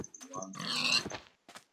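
Short grunting pig oinks from Minecraft, a few quick snorts close up and clear, followed by a brief pause and a faint final blip.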